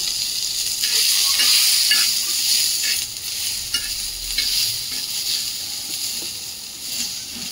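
An onion roasts in a pan with a continuous loud sizzling hiss and occasional stirring scrapes.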